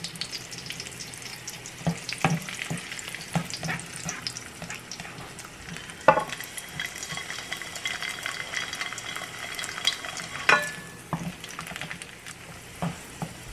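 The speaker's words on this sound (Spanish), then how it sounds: "esperar que se doren un poquito los ajos para poner los chiles" Garlic and red chiles sizzle steadily in a hot pan on a stove, a continuous close frying hiss with occasional sharper pops and stirring clinks, no voices.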